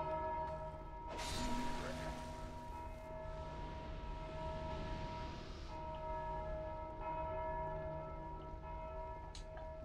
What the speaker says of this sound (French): Et qui active la cloche?